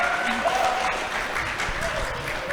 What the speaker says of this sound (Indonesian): Boleh kasih tepuk tangan dulu dong untuk teman-temannya dong